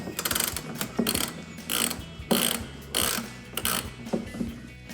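A hand ratchet turning out 10 mm headlight bolts on a 2007-2014 Chevrolet Silverado 2500, with short bursts of rapid clicking separated by brief pauses, close and clear, no talking.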